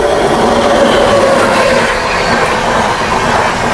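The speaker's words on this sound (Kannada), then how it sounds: "ಓ ಟ್ರೈನೇ." A train passing close on the track, a loud continuous rumble and rattle of wheels with a faint squeal, steady throughout without speech.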